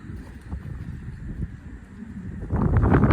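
Steady wind buffets the microphone in a low, rumbling roar that swells louder near the end, with no voices.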